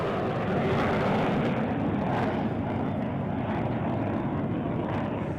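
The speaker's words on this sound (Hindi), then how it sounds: "डकोटा और डॉर्नियर विमानों का फॉर्मेशन है जो राइट टू लेफ्ट आपको जाता हुआ दिखाई दे रहा है" A formation of Dakota and Dornier aircraft passes overhead at an Air Force Day flypast, a loud steady engine roar sustained throughout with no break.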